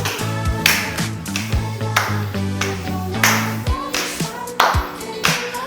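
Hands clap sharply in a steady rhythm during a low-impact cardio workout, each single clap landing between thigh touches over background music, close and crisp.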